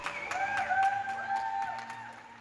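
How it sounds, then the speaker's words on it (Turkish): Residents on balconies in Brussels clap for health workers, scattered distant claps echoing between buildings, with a whistle or tonal call and a low background hum running through. "Brüksel'de balkonlarına çıkanlar alkışlarla sağlık çalışanlarına destek verdi."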